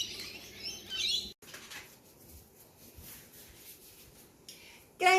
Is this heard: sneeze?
no